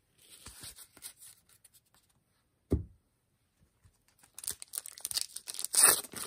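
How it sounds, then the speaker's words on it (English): Wax packs of 1991 Donruss baseball cards being torn open by hand, with soft crinkles and a brief rip early on, then a louder flurry of paper tearing and crackling at close range. "These packs sure are easy to open, especially after struggling with cello packs for a little while."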